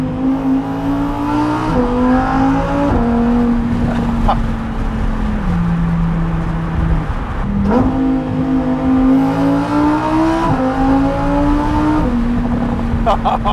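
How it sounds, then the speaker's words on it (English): A 2021 Lamborghini Huracán EVO's naturally aspirated engine revs loudly and climbs in pitch through several gears, with a brief dip at each shift, heard up close. "I'm just enjoying the sound of this naturally aspirated motor."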